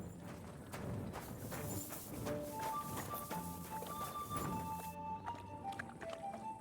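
Horse hooves clip-clop steadily in the Kingdom Come: Deliverance 2 video game, a continuous walking rhythm at moderate volume over a busy game soundscape with faint tonal chimes.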